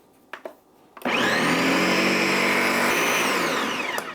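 An electric mixer whirs up to speed and runs steadily for about three seconds, blending flour, baking soda and salt for tortillas, loud and close after a couple of light knocks, then cuts off.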